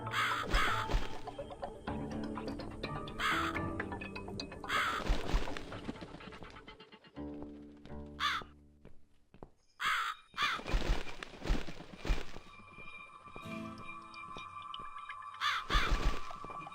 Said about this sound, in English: Let's follow that crow.